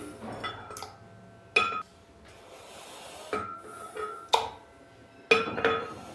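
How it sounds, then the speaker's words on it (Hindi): A few sharp clinks as eggs are dropped into a mixer jar, spaced irregularly with quiet gaps. "मिक्सी जार के अंदर सबसे पहले हम अंडे डालेंगे।"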